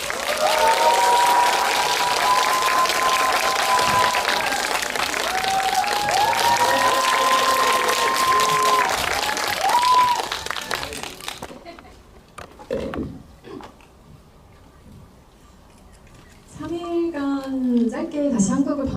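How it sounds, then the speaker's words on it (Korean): Audience applause welcoming a film actor at a CGV cinema Q&A in Yeongdeungpo, loud and sustained for about ten seconds with music-like tones over it, then fading as people begin talking. "코리아 스톤 타카유키토 배우를 큰 박수로 맞이해주시기 바랍니다."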